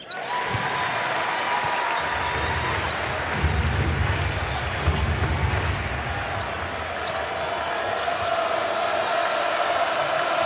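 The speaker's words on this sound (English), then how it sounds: "the crowd's back in" Arena crowd noise at a college basketball game between Vanderbilt and Missouri: a sustained roar of cheering with dribbling thuds underneath, loud and constant throughout.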